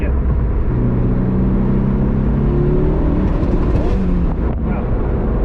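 A 500 hp turbocharged Saab 9-5 pulls hard from inside the cabin, its engine note rising in a loud droning surge that climbs through the revs, then breaks off abruptly near the end.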